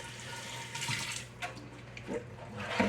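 Water runs steadily into a sink with a soft, continuous splashing rush, close and moderately quiet, with a few small clinks.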